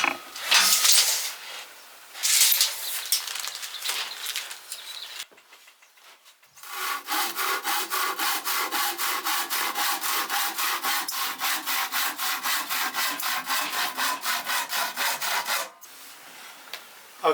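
A hand saw trims excess material from a frame built around a window reveal. Close, even back-and-forth strokes run steadily for about nine seconds, after a few short scraping bursts.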